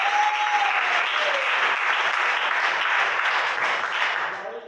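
A church congregation applauds during a Portuguese-language evangelical sermon, a dense, steady wash of clapping that fills the whole stretch and tapers slightly at the end; a faint sustained tone glides under the start.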